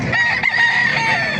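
Roosters crowing at a busy chicken market in Calumpit, Bulacan: a loud, close, drawn-out crow with other fowl calling and clucking behind it, no talk over it.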